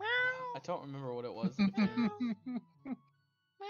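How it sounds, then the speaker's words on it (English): A cat meows repeatedly in a quick series of short, close calls, with people talking over and around it. "That is a cat."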